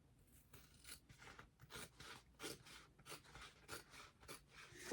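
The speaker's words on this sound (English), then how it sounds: "So I'm just going to cut this out with my scissors instead of my rotary blade" Scissors snip through sewing fabric in a quiet, irregular series of crisp cuts and rustles, close and alone.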